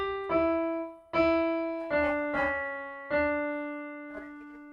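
Keyboard plays a short melodic phrase of Ganesh Aarti, several clear sustained notes struck one after another at a moderate, even pace, close and alone.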